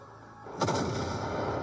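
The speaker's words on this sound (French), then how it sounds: "On va prendre les plus gros canons." In a video game, a heavy booming blast from big cannons erupts suddenly, followed by a dense rumbling barrage of shots and explosions continuing loudly.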